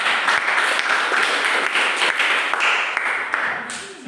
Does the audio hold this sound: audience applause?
yes